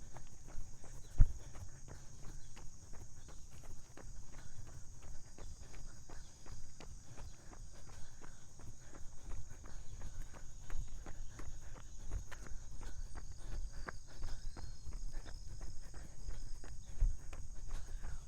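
Steady, fairly quick running footsteps patter along outdoors, with a continuous high insect drone in the background.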